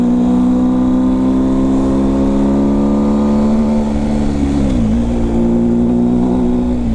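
A motorcycle with a straight exhaust pipe, open 'só o cano', roars loudly and close in a steady low drone, pitch holding then dipping briefly around a shift before climbing again.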